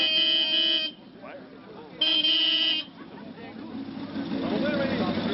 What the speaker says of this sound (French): On l'entend, le klaxon?